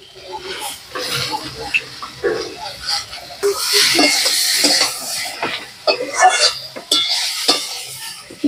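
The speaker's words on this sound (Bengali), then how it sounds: "পেঁপে আলু কষাই হয়ে গেছে" Papaya and potato fry and get stirred in a pan for a fish curry, with a bright sizzle and repeated scraping of a utensil against the pan. The sizzle swells in the middle, and bursts of talk come and go over it.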